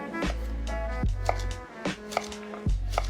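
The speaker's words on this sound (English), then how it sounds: "now we just take this and just chop it up" Knife chopping food ingredients on a board in a home kitchen, a few firm, spaced thuds over a steady low background hum, close by, no talking.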